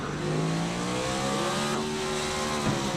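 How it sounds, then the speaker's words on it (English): Race car engine screaming at high revs as it powers out of a corner in a stock car racing video game, rising and shifting tones over a dense, constant roar with other cars nearby. "you can hear just how high he's revving the engine off the corner here"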